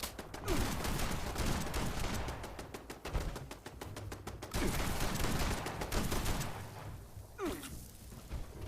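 Gunfire in a Fallout 76 PvP video game fight, with rapid bursts of shots and fusillades close up, sporadic single cracks and a whooshing sweep near the end.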